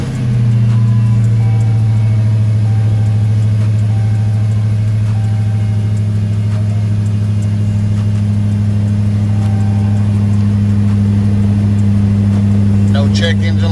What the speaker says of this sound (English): First startup since the JLT intake being installed.